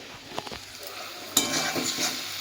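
Oil sizzles softly in a pan, quiet at first with a couple of faint clicks, then swelling into a fuller, steady crackle of frying.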